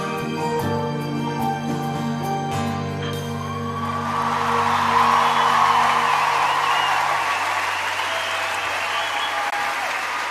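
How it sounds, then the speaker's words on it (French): Sustained music gives way to a swelling wave of concert audience applause, loud and thick crowd clapping taking over midway and holding to the end. "Applaudissements pour..."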